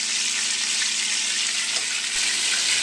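Hamburgers fry in a pan while hot fat is spooned over their tops, giving a steady, loud, close sizzle that keeps on without a break and with no one talking.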